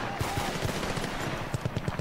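Rapid bursts of gunfire in the video game Battlefield: Bad Company 2, a quick series of sharp shots in two clusters over a steady background noise.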